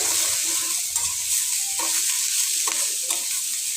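Potato and tomato sautéing in a pan, a steady bright sizzle with scattered scraping stirs from a spatula, close and continuous with no talk.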